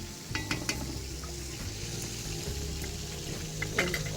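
Chopped garlic dropped onto onions frying in a pan, a steady sizzle and crackle with a few light clinks and stirring scrapes near the start and end.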